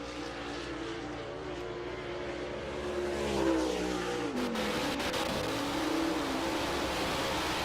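A dirt late model race car roars around the Georgetown Speedway track, its engine drone rising and shifting in pitch as it passes, loud and sustained throughout with no voices.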